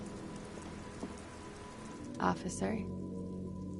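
Steady rain patters throughout a night scene in the video game Disco Elysium, a soft continuous hiss with a brief spoken word over it midway.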